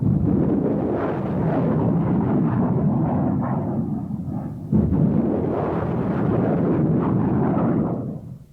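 A sustained, roaring rush from MLRS multiple launch rocket system launchers firing rockets in the Gulf War. It holds loud and dense for about eight seconds, dips briefly, then surges again before fading. No voices are heard.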